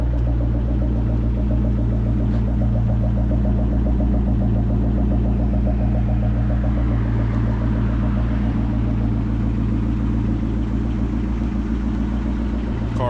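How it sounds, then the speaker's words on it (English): A 2003 Ford Mustang SVT Cobra idles steadily, a loud, close, even engine rumble with a constant low throb and no revving, heard alone throughout. "Car sounds amazing."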